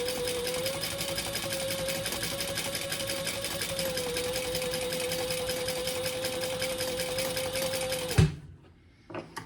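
A sewing machine stitching a Laverna bag runs at a steady, rapid whir for about eight seconds, close and even, then stops abruptly, leaving a few faint handling sounds.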